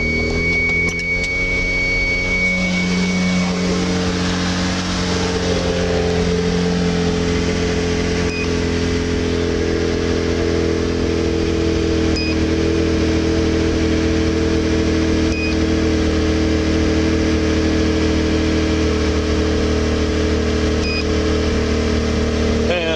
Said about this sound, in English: So, car starts.